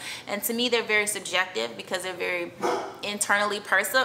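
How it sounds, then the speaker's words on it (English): A dog barks in repeated short, sharp yips in a room while someone talks steadily over it. "that's my dog always making a cameo."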